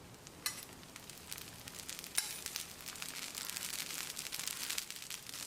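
Dosa batter sizzling in oil on a hot pan, a soft continuous crackle with scattered sharper pops, fairly quiet and steady, with no voices.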